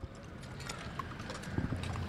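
Quarter horse hooves clip-clopping on pavement in a parade for a quarter horse convention, a steady run of close hoof strikes amid outdoor crowd noise.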